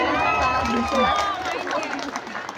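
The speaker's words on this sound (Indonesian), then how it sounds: "Coba Tepuk tangan dulu dong yang meriah." An audience at a school inter-class costume fashion show cheers and shouts in a steady, lively roar, with voices rising over the crowd throughout.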